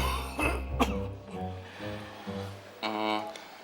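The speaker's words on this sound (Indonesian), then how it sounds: "Maaf, saya lagi batuk." A person coughs and clears their throat indoors, several close, raspy bursts spread across a few seconds with voiced tails, heard alone without other talk.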